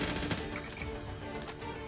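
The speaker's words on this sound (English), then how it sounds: "Oh, I heard gunfire." Rapid gunfire in the Roblox game Project SCP, a dense, rattling burst of automatic shots that stays fairly quiet and distant as it continues under the game's ambient sound.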